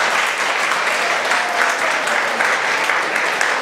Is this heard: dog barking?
no